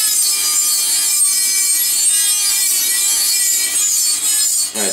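Steady sawing or rasping against a computer case panel during a casemod build, a continuous close, loud scraping with bright hiss and no talk.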